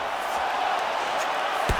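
An arena crowd in the UFC 5 video game murmurs and roars steadily through a women's fight, a dense continuous wash of noise with a brief thump near the end.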